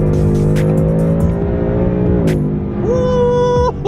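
A 2018 Ford Mustang GT Premium with performance pack and 10-speed transmission accelerates loudly, its V8 engine note rising steadily in pitch from inside the car, then briefly dropping as it shifts and climbing again.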